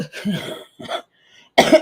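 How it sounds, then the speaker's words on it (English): A few harsh coughs, close and loud, with short pauses between bursts and a final heavier cough at the end. "Cough is coming and going"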